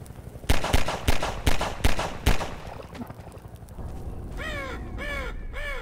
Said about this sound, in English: As you know, this crow flies directly into a barnacle.